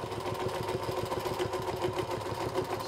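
Singer Featherweight sewing machine stitching fabric guided by a ruler, a steady fast mechanical hum with a rapid rhythmic needle clatter, close and continuous throughout.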